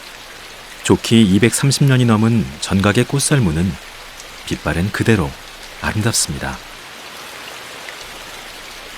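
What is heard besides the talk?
rain falling on a temple hall at Magoksa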